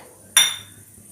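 Half a cup of black kavuni rice poha tipped into a pan lands as one sudden, bright rattling clatter that fades away within about half a second, with no talking.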